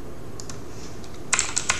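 Quick burst of a few crisp computer keyboard keystrokes near the end of a quiet stretch, typed close by while entering data.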